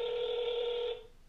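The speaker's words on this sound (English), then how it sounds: "Let's see if he answers. We're calling Joey." Telephone ring tone on an outgoing call, a single steady electronic tone that holds for about a second before cutting off, heard clearly with no talk.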